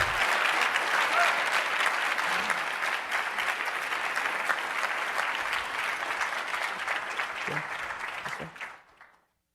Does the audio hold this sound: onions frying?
no